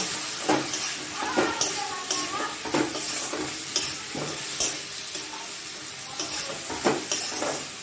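Spice paste with cumin powder is stir-fried in a pan, a steady close sizzle broken by regular scraping strokes of a spatula, about one every second, with no one speaking.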